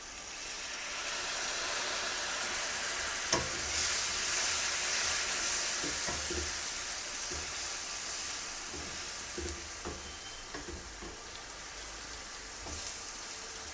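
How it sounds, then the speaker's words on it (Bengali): Bitter gourd and potato sauté in a pan after water goes in with turmeric and chilli powder, a soft hissing sizzle with a few faint stirring knocks, quiet and steady. "পানি দিয়ে একটু কষাবো"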